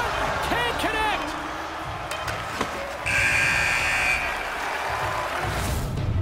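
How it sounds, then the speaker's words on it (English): A loud end-of-period buzzer blares steadily for about a second in the NHL 22 hockey video game, over crowd noise and a broadcast commentator's voice. "There's the buzzer."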